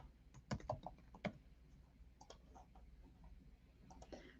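Keys on a computer keyboard clatter in short, irregular bursts of soft clicks, faint and close, as text is entered with brief pauses between taps.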